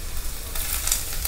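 Chopped garlic fries in hot coconut oil after mustard seeds pop, a soft crackling hiss that swells to a louder, sharper sizzle partway through.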